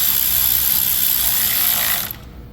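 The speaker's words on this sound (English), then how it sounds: "now I'm going to tighten them" A ratchet tightens the valve cover bolts on an engine with a fast, continuous run of close clicking for about two seconds, then stops abruptly.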